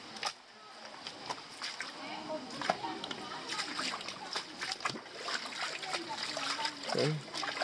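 Water splashes across a bridge, a steady wash of sloshing and trickling with irregular splatters. It carries on throughout at moderate level, and a voice is faintly audible beneath it.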